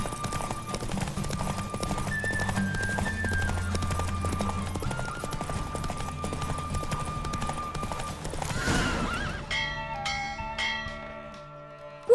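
Horse hooves gallop in quick, rhythmic clip-clops during a race in The Witcher 3, under ringing bell-like tones, then give way to brighter chiming tones as the galloping fades.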